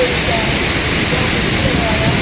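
Dokmoka Bhelughat waterfall in Karbi Anglong, Assam, gives a continuous, loud hissing roar of falling water that holds steady throughout, with faint voices beneath it.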